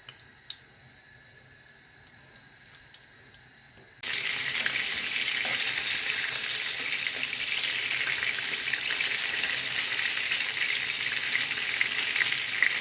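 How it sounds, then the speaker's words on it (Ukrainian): After a few seconds of quiet, a loud hiss of sizzling oil erupts and crackles steadily as meat patties fry in a pan, with no talking. "Сковорідку на вогонь налила олії, вже підсмажується, вже нагрілася. Ставлю тепер котлети свої."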